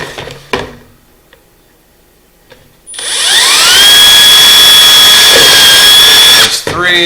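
A power drill bores bolt holes into a fish fry grow-out tank with a loud, steady high whine lasting several seconds. Quiet handling noises come first, and the whine winds down at the end.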